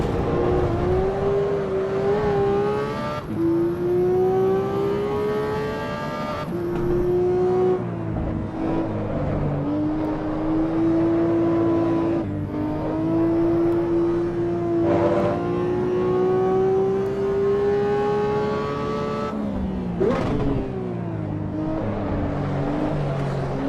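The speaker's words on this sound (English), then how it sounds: "Listen to those downshifts" Car engine in a naturally aspirated manual car with a gated shifter, revving hard and dropping through several downshifts, each marked by a sharp blip and pitch jump over a continuous loud drone.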